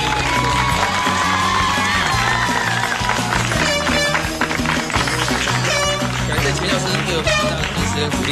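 Nursing-school students applaud and cheer loudly, a dense, continuous roar of clapping, tapping and excited shouting from a large crowd.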